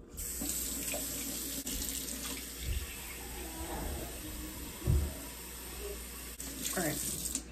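Warm tap water runs steadily into a home sink, a continuous close hiss with a few splashes and soft knocks as a cup is filled for a salt-water rinse.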